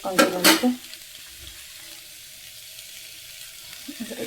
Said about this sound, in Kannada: ಇದಕ್ಕೊಂದು ಸ್ವಲ್ಪ ನೀರು ಬಿಟ್ಬಿಟ್ರೆ ಕುದ್ಬಿಡುತ್ತೆ ಅದು